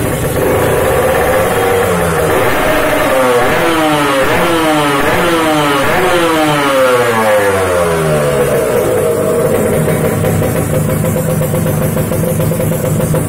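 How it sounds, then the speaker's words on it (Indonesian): A Kawasaki Ninja motorcycle with a gold KTC cylinder block and 160-size wheels front and rear, engine not yet warm, starts and revs repeatedly, the loud close exhaust note sweeping up and down in rising and falling bursts before easing back to idle. "Kita coba nyalakan mesinnya ya."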